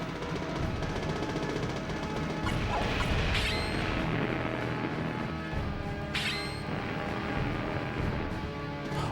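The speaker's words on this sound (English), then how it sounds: "Maybe we switch to our other weapon here. Let's try the energy bolt." Energy bolt weapon attack in the PS1 Cowboy Bebop video game, heard as dense continuous game audio with mechanical clanks and a couple of sharp sweeping zaps layered over a steady background.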